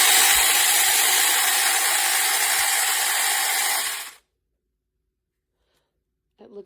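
A small pink Saker 6-inch cordless electric mini chainsaw runs with a steady high whirring buzz for about four seconds, then cuts off abruptly into silence before a faint brief noise at the end.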